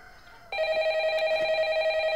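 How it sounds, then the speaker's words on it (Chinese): A telephone rings with a bright, steady electronic tone that starts abruptly and holds at moderate loudness, heard clearly alone in a film scene. "我接个电话啊。"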